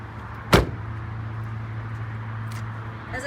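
A single solid thump as the manual lift gate of a 2020 Buick Encore GX is shut, followed by a steady low hum and faint clicks in the background.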